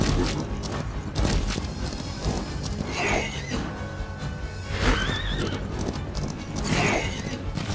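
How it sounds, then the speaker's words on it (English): Horse galloping and whinnying in a video game, hooves clip-clopping steadily throughout with a few high neighs rising over the running, fairly loud and close alongside game background sound. "Oh yeah, riding the horse, it saves so much time."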